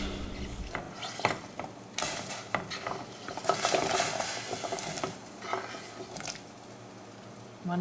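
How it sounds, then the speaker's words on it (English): Vegetables go into a pot of boiling water for a lentil shepherd's pie, with bubbling, splashing and pot clatter close by, swelling in the middle and then settling. "I'm going to put these vegetables into the boiling water"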